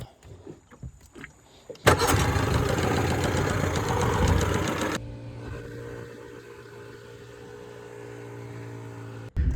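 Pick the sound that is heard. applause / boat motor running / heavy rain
boat motor running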